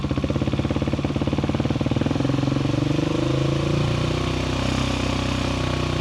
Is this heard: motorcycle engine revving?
yes